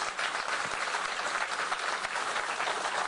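An audience at a Columbus Crew stadium announcement event in Columbus, Ohio gives steady, moderately distant applause, a continuous crackling wash of many hands with no voices.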